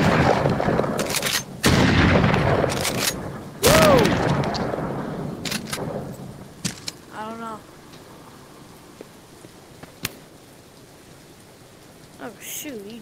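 Shotgun fire in The Walking Dead video game: several loud close blasts with long decaying tails early on, then fainter scattered shots amid rain-like ambience.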